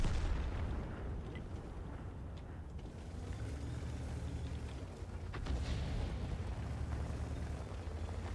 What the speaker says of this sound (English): Artillery, do your thing.